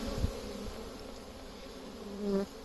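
Honeybees fly around hives in late November, with mustard blooming nearby: a faint, steady insect drone with a soft buzz that briefly swells near the end, and no voices.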